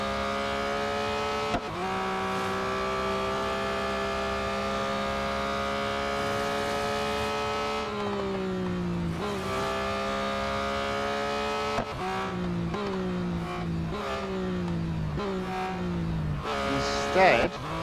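A 2021 Porsche 911 GT3 races in Real Racing 3, its engine note climbing steadily through long gear pulls, with quick downshifts and rapid revs near the end.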